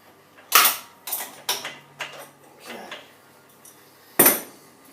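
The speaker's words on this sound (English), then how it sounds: "Spanner, just nip up the drawbar." A spanner nips up the drawbar on a milling machine, giving a handful of sharp metallic clinks and taps spaced irregularly over a few seconds, close and fairly loud with quiet gaps between.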